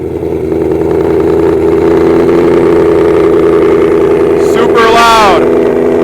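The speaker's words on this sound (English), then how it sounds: "Right now, I'm gonna give you guys a warm startup." 2024 Ford Mustang fitted with long tube headers on a warm startup: a loud, rough, continuous engine drone with a brief sweeping rise and fall in pitch near the end.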